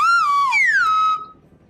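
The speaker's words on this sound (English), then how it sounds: "this slide whistle doesn't have to charge" A slide whistle toots loudly and close, its pure tone dipping, then gliding down in two swoops before cutting off abruptly into quiet.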